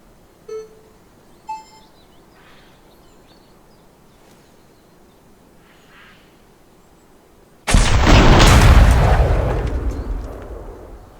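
Gunshot at a shooting range in the video game Gunsmith Simulator: a few quiet beeps, then one loud, close blast with a long decaying echo.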